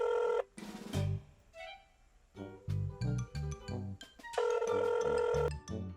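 A phone line rings out in repeated tone bursts while a call is being placed, each burst separated by short pauses and sounding clear and fairly close, with no talking over it.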